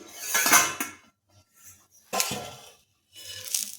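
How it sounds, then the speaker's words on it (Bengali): A metal lid comes off a pan cooking rice pancakes, with close clanks and clinks of metal on cookware in two or three short bursts, no voices. "এখন ঢাকাটা খুলে নিচ্ছি।"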